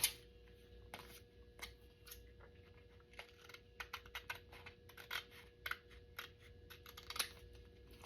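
Quick, faint snips and clicks of a paper Christmas wreath journaling card being trimmed along its bottom edge, spaced irregularly over a quiet room background.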